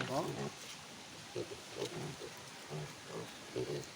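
Hungry little piglets on a farm oinking and squealing in short bursts near feeding time, faint and close, with people talking over them.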